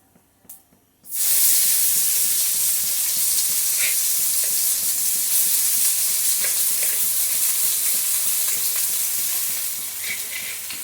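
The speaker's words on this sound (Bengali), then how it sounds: "এখন দিয়ে দেবো কুচানো পেঁয়াজটা" Chopped onion hits hot oil with cumin seeds and bursts into a loud, steady sizzle that carries on for several seconds, with faint scraping of stirring underneath and no talking.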